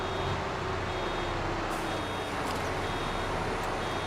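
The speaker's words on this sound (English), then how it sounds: "Let's shut that beeping off." Reversing beeps from a farm vehicle in Farming Simulator 22 while round baling, a steady tonal beep running throughout over a constant engine rumble, no talking.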